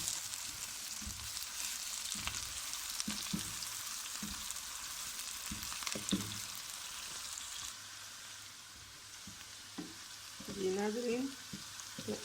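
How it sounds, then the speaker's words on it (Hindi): Onions frying lightly in a pan with garam masala for aloo gosht, a soft steady sizzle with occasional stirring and a short spoken greeting. "हमने हल्के से फ्राई कर दी प्याज।"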